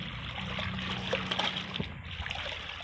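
Water poured and splashing into a dilution for a myrobalan natural dye bath for fabric, a short continuous trickle and splatter close by, with no talk.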